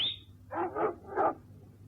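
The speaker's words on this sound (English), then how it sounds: "Oh, canine conversation." Guard dogs on an estate's grounds bark in three quick, moderately close bursts after a brief high tone, with a quiet background and no talk.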